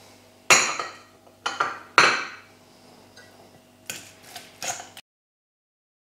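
A utensil knocks and clinks against a bowl while fine whole-grain oat flakes and egg are mixed, giving about six sharp, separate strikes of uneven spacing, close and fairly loud, with no talking.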